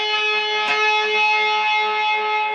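An electric guitar string rings out through high-gain distortion as a sustained, buzzing tone rich in overtones, with a brief pick attack partway through. It is loud and steady, with no talking.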